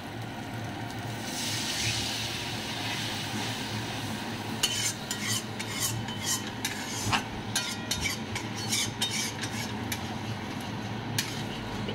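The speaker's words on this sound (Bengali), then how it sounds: "এবার এর মধ্যে উষ্ণ গরম জল দেবো, ঠান্ডা জলটা দেবো না।" Warm water poured into frying spice paste for telkoi jhal, a Bengali fish curry, in a pan. A loud, steady hiss and sizzle runs throughout, with scattered clinks and scrapes of a utensil toward the end.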